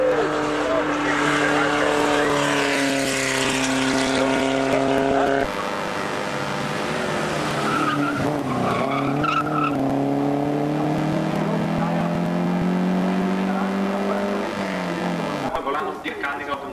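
A race car climbs toward the finish of a hill climb in Ajdovščina, engine note rising and falling through gear changes as it passes, with an announcer talking over it throughout.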